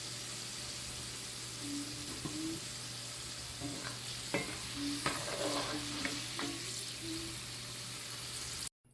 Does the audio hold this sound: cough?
no